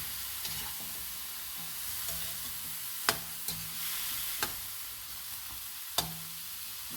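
Chicken feet adobo sizzles in a pan while being stirred, with a steady frying hiss and several sharp clinks of the utensil against the pan.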